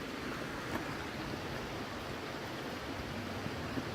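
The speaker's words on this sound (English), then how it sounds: "Now that is a rocky creek." Water runs steadily over a rocky quartzite creek bed, a close, even rushing wash with no voices.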